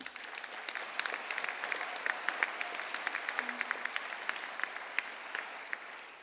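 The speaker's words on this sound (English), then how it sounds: "let's give them a round of applause." Audience applause at a Bournemouth University Business School graduation ceremony, a steady wash of many hands clapping with scattered louder claps, moderately distant and sustained throughout, no talking.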